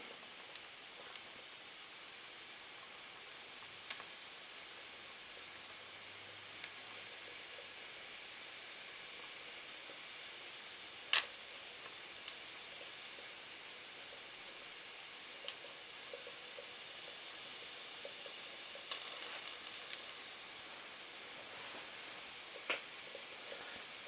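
A kit-built MSS live-steam model locomotive fired by solid fuel gives off a faint, steady hiss of steam, broken by a few small clicks and ticks.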